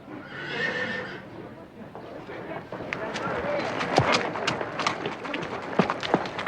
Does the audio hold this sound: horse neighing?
yes